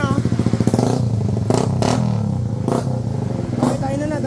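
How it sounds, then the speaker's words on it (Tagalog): Stock-piped Suzuki Raider Fi motorcycle engine idling and revving loudly up close, with rapid rhythmic firing pulses and a few sharper rev bursts; people talk over it at times. "Napakaingay talaga nitong Raider na to."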